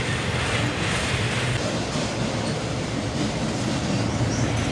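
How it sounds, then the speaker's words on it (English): A CSX freight train rolls past with its auto rack cars, a loud, steady rumble and rush of wheels on rail close by, with faint rhythmic clatter and no voices. "We're about halfway through the train now, and it turns into auto racks."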